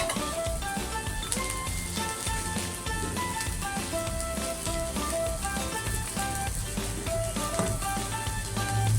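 Mustard seeds, chopped onion and a pinch of asafoetida sizzle steadily in hot oil, a loud continuous crackle and hiss with scattered pops, no voices.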